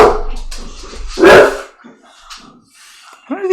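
A pet dog barks loudly and close by in a home during a board game session, with a sharp burst of barks followed by quieter yips and a whimper, while people talk around it.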